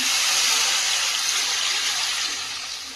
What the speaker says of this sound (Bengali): দেখো, জল দিয়ে দিলাম।